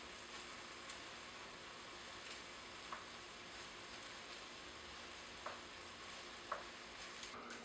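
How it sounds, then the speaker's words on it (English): Kale wilts in a hot skillet while being stirred, giving a faint, even sizzle with a few soft utensil taps, quiet and without talk. "2 cups of the kale. There's one and two, and stir that until it wilts."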